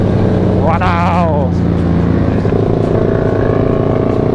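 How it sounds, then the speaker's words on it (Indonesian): Loud, rumbling exhaust of a Kawasaki Ninja SL motorcycle bored up to 280cc with a WRX GP6 carbon muffler on a night ride, a brief rising rev whine early on over a steady engine drone, with voices talking alongside. "Kalian bisa dengar suara knalpotnya bacot banget, WRX GP 6 karbon."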